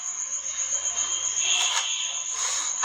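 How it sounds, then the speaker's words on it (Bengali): Crickets chirp in a steady, shrill, continuous trill that hangs evenly in the background, with faint surges of other insect noise and no talking. "ঝিঝি পোকার আওয়াজ"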